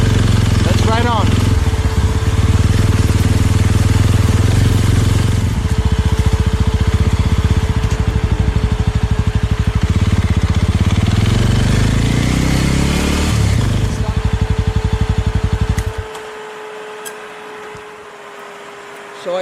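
Motorcycle ridden on roads of the Banggai Islands in Sulawesi, Indonesia, its engine droning loud and steady with rising revs and road rumble for most of the stretch before dropping away to a quiet idle near the end.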